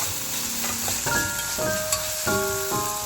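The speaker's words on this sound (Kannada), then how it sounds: "ಇದು ಚೆನ್ನಾಗಿ ಈರುಳ್ಳಿ ಟೊಮೆಟೊ ನೀಟಾಗಿ ಫ್ರೈ ಮಾಡ್ಕೋಬೇಕು" Onion and tomato fry in a pan for a ridge gourd stir-fry, a close, steady sizzle broken by light stirring and utensil clinks, with no voices.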